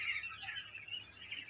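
Laying quails on a farm give faint, rapid high chirps and twitters, overlapping in a soft continuous chatter with no voices.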